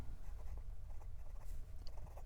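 Steel medium nib of a Pineider Modern Times fountain pen scratching across Clairefontaine 90 gsm paper, a soft continuous close-up rasp with faint stroke rhythms over a low background hum.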